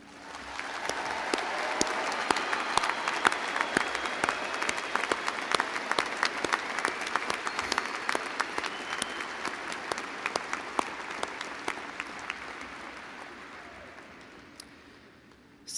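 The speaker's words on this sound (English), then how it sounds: "I think we should begin with a gigantic round of applause in celebration of our graduates." A large commencement audience applauds the graduates, a long, sustained ovation of countless overlapping claps with sharp individual hand smacks standing out, swelling early, holding steady and then gradually tapering off.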